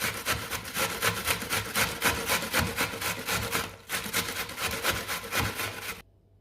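An onion being grated on a hand grater for meatballs: rapid, rhythmic rasping strokes, close and loud, with a brief pause midway before the scraping resumes and stops abruptly at the end.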